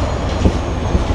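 The Banalata Express rolls toward Kamalapur station in Dhaka, giving a loud, steady rumble with rhythmic clacks of wheels over rail joints.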